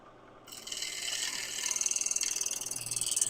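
A woodturning scraper on a spinning lathe ticks rapidly against an uneven wooden surface, a close, fast regular clicking that rises out of a steady scraping hiss, with no voices.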